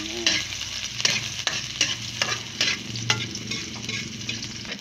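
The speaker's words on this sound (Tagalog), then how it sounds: "Mix natin ating sibuyas" Onions fry in a pan while being stirred, a constant bright sizzle punctuated by regular scraping strokes and soft knocks of the utensil, close and steady.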